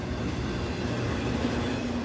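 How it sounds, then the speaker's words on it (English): A train rolls past on the main station track at Portage la Prairie, Manitoba, a continuous loud low rumble of wheels and cars with faint squeal tones, close and steady throughout. "So this train here is going by on the main station track that Via Rail would use."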